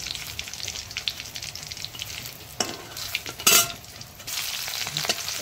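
Garlic and onion fry in a pan with a steady, crackling sizzle broken by a few scraping stirs and one sharp clatter midway. There is no talking.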